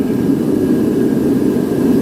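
A heater runs with a steady, loud broadband roar, a continuous even whoosh with no breaks, filling a workshop while a Suzuki SV650S motorcycle fairing is being repaired.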